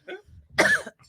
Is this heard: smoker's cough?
yes